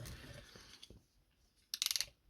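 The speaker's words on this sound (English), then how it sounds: "You got a nice clicky swivel at the waist." A Transmetal 2 Megatron action figure's waist swivel is turned, giving a quick run of about six sharp ratcheting clicks close up, after a few faint handling taps.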